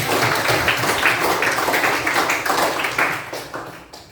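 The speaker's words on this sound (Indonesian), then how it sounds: "Tepuk tangan dulu untuk kawan" Classmates applaud a fellow student in a classroom, a steady patter of many hands clapping close by that holds strong and then gradually thins out toward the end.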